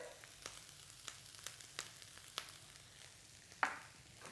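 Turmeric, curry powder and white pepper being stirred through rice in a hot pan for Thai pineapple fried rice: soft, scattered scraping clicks over a low, steady sizzle, close and quiet, with no talking.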